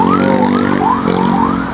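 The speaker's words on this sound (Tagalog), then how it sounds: "Ayan, samahan pa ng ambulansya." An ambulance siren wails on a national highway in traffic, its repeating rising and falling tones loud and steady against the road noise, with no talk over it.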